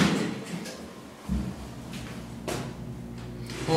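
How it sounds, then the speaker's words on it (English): Doors of a Westinghouse scenic elevator in a mall slide shut, a soft thud followed by a brief swish and a muffled bump of the panels meeting, close by amid a quiet background hum. "Watch how quickly the doors close."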